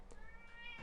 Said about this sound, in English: I don't know if you guys can hear my cat or not, but she's just looking outside.